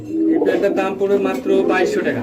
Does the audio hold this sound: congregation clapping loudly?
no